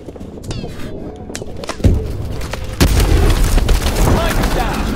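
A heavy rocket launcher blast slams into a Titan in Call of Duty: Advanced Warfare, with a loud boom near the two-second mark and sustained rumbling debris, amid ongoing gunfire.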